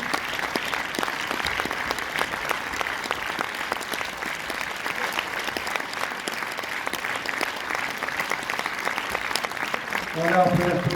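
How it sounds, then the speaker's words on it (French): A cinema audience in Orléans at a film premiere keeps up dense, steady applause for a young actress, loud and unbroken throughout, with a slight swell near the end. "on peut l'applaudir très fort"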